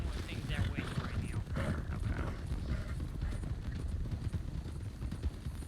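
Horse hooves in Red Dead roleplay, a steady clip-clop of hoofbeats with creaking tack, moderately close and fairly quiet, with voices faintly in the background.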